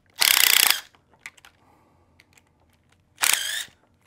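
A power driver with a 2.5 tip loosens motorcycle triple clamp screws in two short bursts of high-pitched whirring, separated by small clicks and handling noises.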